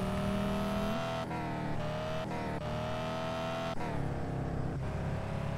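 A BMW E82 engine in a driving video game revs hard and steady while drifting, its pitch stepping up and down through repeated gear changes and throttle shifts, loud and continuous with a faint tire squeal.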